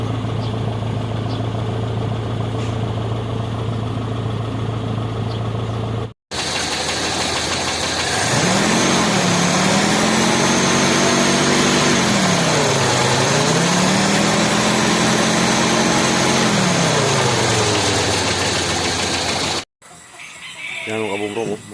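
A Toyota 3AU engine with water mixed into its oil runs steadily, loud and close, its tone rising and falling with a few gentle revs in the middle stretch. Other noise comes before and after the engine.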